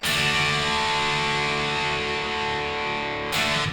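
Heavily distorted electric guitar through a distortion pedal, a thick sustained chord with modern metal-rock saturation holding steady and loud, then a fresh hit of the strings just before the end.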